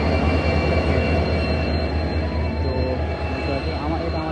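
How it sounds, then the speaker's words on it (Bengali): A large train rolls through Chinpai railway station near Durgapur, a steady loud rumble of wheels and carriages that fills the whole stretch without letting up. "আর এখানে একটা বড় ট্রেন যাচ্ছে"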